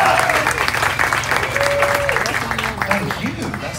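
Crowd of Platinum and Diamond guests at a cruise ship party on a Carnival ship, applauding and cheering for a guest named Paula; loud, sustained clapping with whoops and voices over a musical backdrop.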